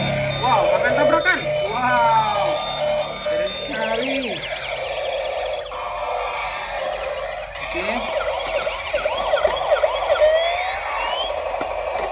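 A toy ambulance siren warbles and beeps continuously, loud and close, while a person talks over it.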